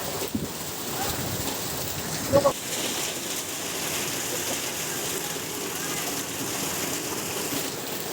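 A steady, dense roar of heavy rain pours down during an unusually severe downpour in Meherpur, Bangladesh, loud and unbroken throughout, with one brief knock partway through.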